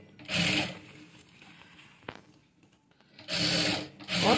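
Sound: sewing machine stitching golden lace on a kaftan dress

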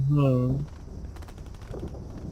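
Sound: gunfire from a video game, Avatar Star

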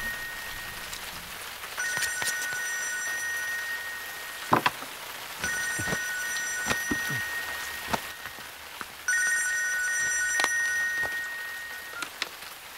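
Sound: telephone ringing

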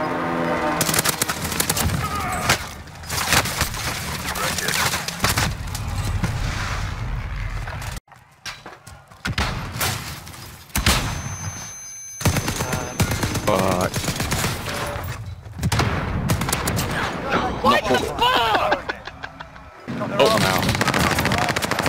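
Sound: gunfire and artillery strike in a video game

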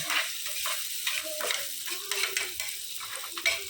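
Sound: frying green chillies, onions, ginger paste and turmeric for chicken curry

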